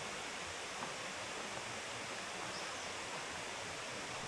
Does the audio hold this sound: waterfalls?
yes